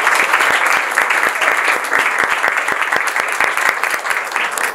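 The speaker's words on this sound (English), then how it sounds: "Round of applause, everybody." A workshop audience claps steadily for about five seconds, a dense, close wash of many hands with a few sharper individual claps standing out.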